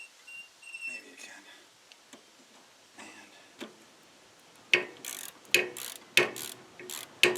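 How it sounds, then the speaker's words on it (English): A wrench works on Craftsman lawn tractor steering parts during bearing and tie rod replacement, first with soft scattered metallic taps, then a run of sharp, evenly spaced ratcheting clicks near the microphone. "I'm just sticking the wrench behind something that it can hook, and so I don't have to hold it while I torque it."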